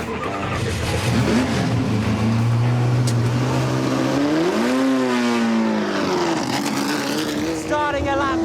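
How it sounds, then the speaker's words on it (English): A race car laps Silverstone circuit during the Silverstone Festival, its engine loud and close, rising and falling in pitch through gear changes and corners, with a voice talking over it. "Starting a lap then here at Silverstone for the famous Silverstone Festival."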